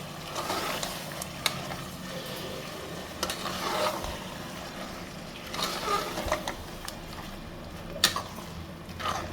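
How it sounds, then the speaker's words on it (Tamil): Ground paste is stirred into white chicken gravy in a pressure cooker, giving uneven wet scraping and sloshing with occasional spoon clacks over a low bubbling sizzle. "ஃபைன் பேஸ்ட்டை நம்ம நல்லா அரைச்சி வச்ச பேஸ்ட்டை இதில் இறக்கி நல்லா மிக்ஸ் பண்ணுறோம்"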